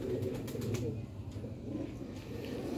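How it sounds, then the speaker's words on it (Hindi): Desi Jaunsra pigeons coo softly in a steady low murmur close by, with faint wing flutters and no talk. "देसी कबूतर है जौंसरा।"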